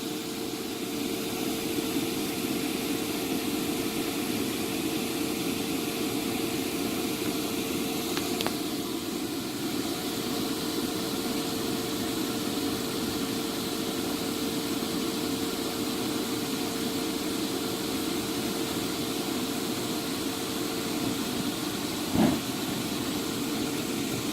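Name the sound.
blower inflating a 16 ft inflatable projection screen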